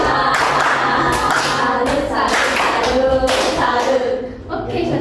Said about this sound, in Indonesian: mari kita berikan tepuk salut